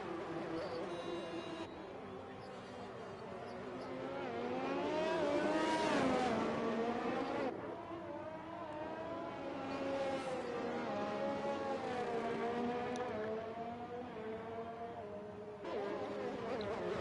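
Race cars lapping Monza in a racing video game, engines rising and falling in pitch as they rev and shift, with commentators talking over the top.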